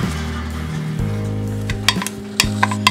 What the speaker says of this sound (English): we're gonna stir it very well